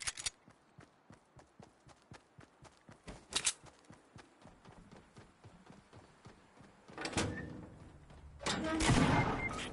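Gunfire in Fortnite on Dusty Divot: a rapid run of regular shots, some louder bursts around the middle, then heavier blasts and rumbling explosions toward the end.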